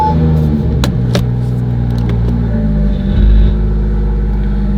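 A BMW with a ZF 8-speed automatic pulls out of a garage, its engine giving a steady close low rumble with a brief swell in revs near the end, alone without talk.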